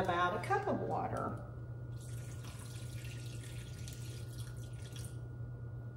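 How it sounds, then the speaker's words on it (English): A cup of water pours steadily into a pot of steakhouse soup, a continuous soft splashing trickle lasting several seconds after a short bit of talk at the start. "And then I'm gonna add about a cup of water."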